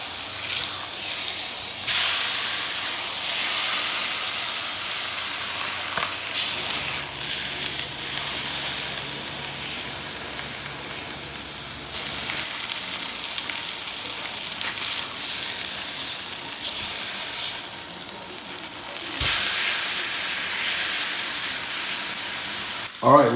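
Coffee-rubbed flank steak sizzles in a grill pan on an induction stove, a steady bright hiss and crackle that fills the whole stretch, with a few soft clatters near the end.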